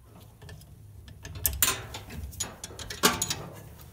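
A ratchet tightens the blower wheel on a Kenmore 90 Series dryer, giving close metallic clicks and clacks in irregular bursts, with a couple of sharper knocks.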